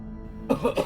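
Two or three quick, harsh coughs close to the microphone, following a moment of quiet hum.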